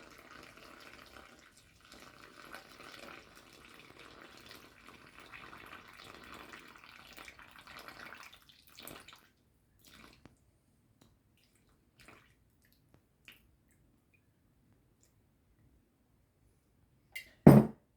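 About 375 ml of water is poured into a multigrain sourdough bread mix. A steady, close splashing pour lasts around nine seconds, then stops, leaving near silence with a few faint clinks and a knock at the end.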